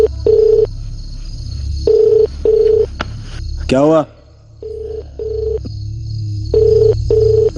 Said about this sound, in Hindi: मनोहर को फोन लगा जल्दी।